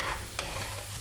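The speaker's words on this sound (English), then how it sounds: "Then you just put some tomato paste." Tomato paste stirred into a sizzling lamb shank curry pan, a constant frying hiss with one quick scrape of a spoon in the middle.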